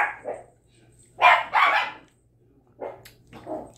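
Three chihuahuas bark in short high yappy bursts, a few sharp yips spaced irregularly and close by, with no talk over them.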